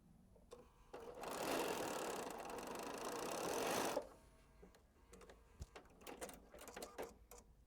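A sewing machine stitches a quarter-inch seam along a quilt block with the setting triangle on top, running in one steady loud whir for about three seconds, then stopping, followed by scattered handling clicks and fabric rustles.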